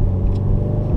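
Inside a 2015 Subaru WRX accelerating on a back road: a dense, loud low engine rumble with road noise, continuous and close throughout the brief moment.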